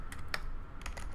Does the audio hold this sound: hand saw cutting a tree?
no